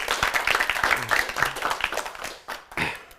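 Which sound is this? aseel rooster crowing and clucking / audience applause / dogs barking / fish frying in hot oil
audience applause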